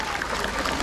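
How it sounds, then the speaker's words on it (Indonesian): Applause rises from a crowd at an outdoor village stage event honoring the village head, a brief, even patter of many hands clapping at moderate loudness. "Saya minta tepuk tangan dulu dong"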